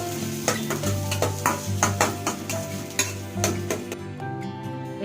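Finely chopped onion and garlic sautéing in oil in a pan for red sauce pasta, a steady sizzle with repeated scraping and stirring clatter of a utensil against the pan, no voices.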